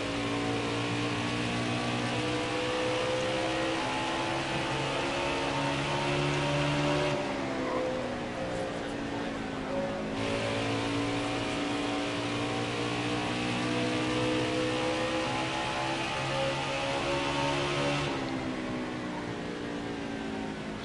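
Race cars in a PTM Cup series event at Iowa, engines revving continuously at a loud, steady pitch with overlapping whines that rise and shift as the cars pass, no talking over it.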